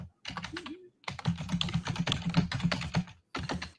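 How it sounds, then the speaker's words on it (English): Rapid, frantic typing on a computer keyboard clatters in dense bursts of keystrokes separated by short pauses, close and clear with no voices. "He's typing like a madman."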